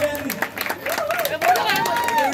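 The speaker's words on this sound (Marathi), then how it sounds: "जोरदार टाळ्या सगळ्यांनी।" An audience applauds at a children's musical chairs event, a short burst of clapping and crowd noise that runs under a loud voice and music.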